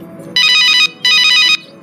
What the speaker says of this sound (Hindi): अरे ये तो मम्मी का फोन है।